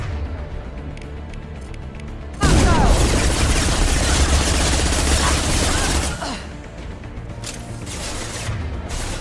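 Heavy gunfire in a Mass Effect 2 firefight erupts suddenly as a dense, loud burst of rapid shots and booms, sustained for several seconds before dropping back to a quieter battle background.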